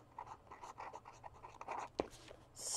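A pen scratching across paper in a crafting journal, with short irregular strokes, close and quiet, plus a sharp tap partway through and a brief rustle at the end.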